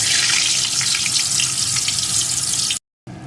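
Potato pieces frying in hot oil, a loud, steady hiss with fine crackle that runs unbroken, then cuts out briefly near the end before resuming.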